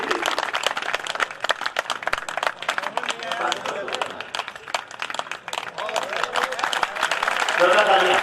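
An audience at an all-India poetry gathering claps loudly and continuously in a dense, crackling wave that swells toward the end, with crowd noise and voices mixed in.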